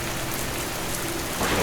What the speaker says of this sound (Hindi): ये इतना तेज तूफान क्यों आ रहा है?